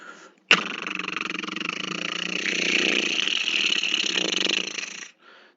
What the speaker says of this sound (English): The sound of a motorcycle